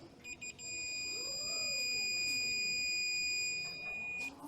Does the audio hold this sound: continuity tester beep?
yes